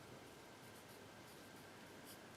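A pencil writing on paper, a faint, steady scratchy rasp that runs the whole time without pause, quiet and close, with nobody talking.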